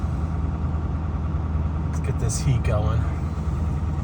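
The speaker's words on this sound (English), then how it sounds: "For a diesel, this is an extremely high idle." A diesel truck engine at a very high idle on a cold day, a steady loud drone running throughout while a person talks over it briefly.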